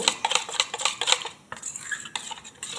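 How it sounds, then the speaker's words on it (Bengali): A utensil beats an egg mixture with salt, pepper and cumin powder in a bowl, giving fast rhythmic clinks and splashes up close, then a short pause before the whisking starts again. "লবণ গোলমরিচের গুঁড়ো জিরে গুঁড়ো দিয়ে আরও একবার ভালো করে ফেটে নেব"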